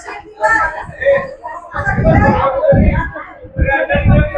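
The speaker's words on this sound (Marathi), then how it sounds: "गर्दी बघा मित्रांनो मच्छीसाठी" Busy crowd at a fish market on Mora jetty in Uran, a dense mix of overlapping voices and chatter close by, steady and loud throughout.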